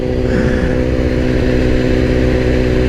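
A BMW S1000RR sport motorcycle on a night road, its engine droning loudly and steadily up close at high revs, a continuous buzzing roar with no speech.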